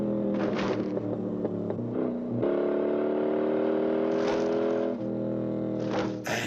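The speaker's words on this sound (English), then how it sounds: "Hear the roar of these V8s" V8 engines roar and rev through a 1968 film car chase, the loud throaty note rising and falling as the cars accelerate, with brief whooshes of passing vehicles and no talk.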